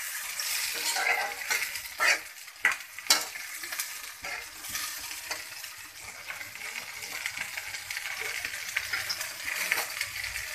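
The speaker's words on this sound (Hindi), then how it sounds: "अब हम इसके अंदर ये टमाटर ऐड कर देते हैं।" Tomatoes are added to onions frying in a pan for a chicken liver curry, giving a steady close sizzle broken by a few sharp clinks and stirring scrapes.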